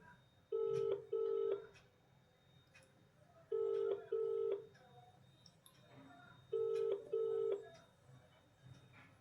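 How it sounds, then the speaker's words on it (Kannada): Ringback tone of an outgoing mobile phone call: three double-pulse rings at regular intervals with short silences between them, heard over faint room noise. "ರಿಂಗ್ ಆಗ್ತಾ ಇದೆ"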